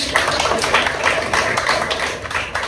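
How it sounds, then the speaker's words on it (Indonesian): Pupils in a classroom clap together in a steady burst of applause, dense and fairly close, lasting a few seconds with no talk over it. "Tepuk tangan."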